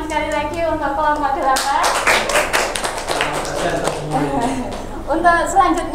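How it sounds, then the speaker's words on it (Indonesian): A school group assessment presentation, where the audience applauds group 8 with scattered, moderately loud hand claps that swell in the middle and then thin out, with speech running beneath and continuing at the start and end. "beri tepuk tangan sekali lagi untuk kelompok"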